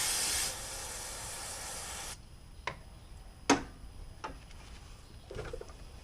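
Carburetor cleaner sprays from an aerosol can onto Subaru STI valve cover parts, a loud continuous hiss for about two seconds, then quiet with a few short taps and rubbing sounds.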